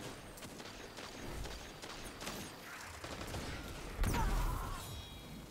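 Gunfire in the video game Destiny 2, a run of sharp mechanical shots and clicks over busy in-game noise, with a heavier burst near the end.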